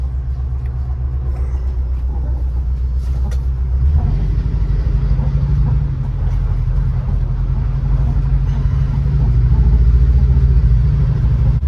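A VW bus fitted with a Subaru 4EAT automatic transmission drives on a freezing Wisconsin day. Its low engine rumble is steady and close, swelling a little partway through, with no voices.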